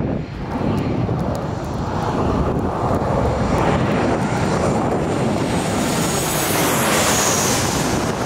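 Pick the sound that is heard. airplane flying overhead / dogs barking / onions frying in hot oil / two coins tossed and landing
airplane flying overhead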